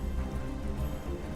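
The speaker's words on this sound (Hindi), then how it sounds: "बारिश शुरू हो गई।" Rain falling as a steady, soft wash of hiss with low patter underneath, even and unbroken across a short stretch.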